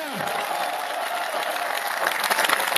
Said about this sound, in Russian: Ну что, друзья, ваши аплодисменты громче!